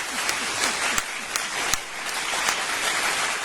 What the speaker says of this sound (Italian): Applausi Andrea.